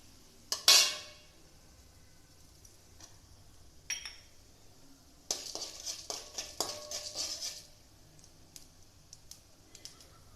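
Mustard seeds spluttering in hot oil give scattered sharp pops and crackles, including one loud burst early and a dense cluster of irregular crackles in the second half, over quiet background.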